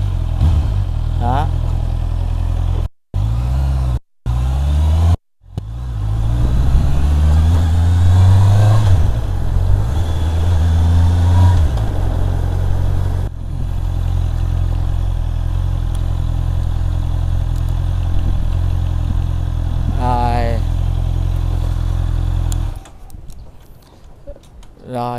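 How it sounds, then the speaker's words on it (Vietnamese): A 2021 Honda CB650R motorcycle rides past with a deep, steady exhaust drone and engine note that swells and fades over about twenty seconds, with a few brief dropouts near the start and a voice talking over it. "cái tiếng bô nó vẫn hù hù hù hù, nó hù hù hù giống như là móc nhẹ cho mọi người"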